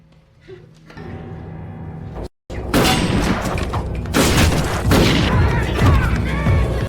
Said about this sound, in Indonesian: saat James secara spontan menembakkan senjata apinya, dan inilah yang terjadi